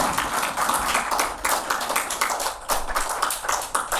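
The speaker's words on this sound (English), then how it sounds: "With a round of applause, let us welcome Brother." Dense applause and clapping from an audience welcoming a speaker onto the stage at a Sunday talk, steady and fairly loud throughout with no voices over it.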